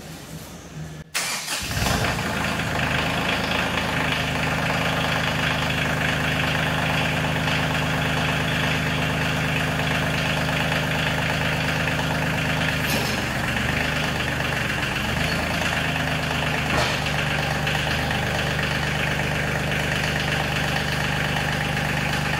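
A Kioti CK2610 tractor engine cranks and catches about a second in, then settles into a steady, close idle that runs unchanged with no talk.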